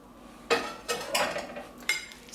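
Fonio summer salad being mixed lightly in a pot, a utensil scraping and clinking against the metal in several separate strokes, close and fairly quiet with no talk.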